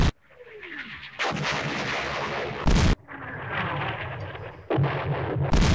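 Artillery barrage in a WWII strategy video game set on the West Front during Operation Sealion, with repeated heavy booming shell blasts and long rumbling decays, loud and close, several impacts one after another.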